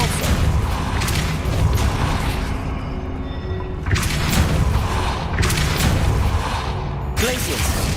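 Repeated Depulso force-push spell casts in Hogwarts Legacy on PC, each a broad whooshing burst roughly a second apart, loud and dense, set over continuous game ambience.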